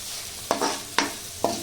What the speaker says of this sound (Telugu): పచ్చివాసన పోయే వరకు అంతా కలుపుకోవాలి.